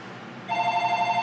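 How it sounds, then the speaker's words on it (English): A house telephone starts ringing partway through, an electronic warbling ring pulsing rapidly and steadily, loud and close over a quiet room. "my house phone's ringing"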